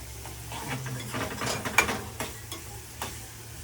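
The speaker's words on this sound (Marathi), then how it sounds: "आता सोपं आपण कांदे टाकले याच्यामध्ये." Onions frying in a pan for kanda poha, a moderate close sizzle with busy stirring scrapes and a couple of sharp utensil clicks, alone without talk.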